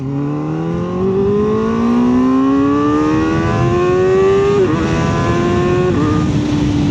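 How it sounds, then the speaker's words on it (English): Kawasaki ZX-4RR motorcycle fitted with a slip-on exhaust and quick shifter, its engine screaming loud and close as revs climb steadily through the gears, with brief dips at quick upshifts, and no voices. "Yeah, the quick shifter is awesome on this bike."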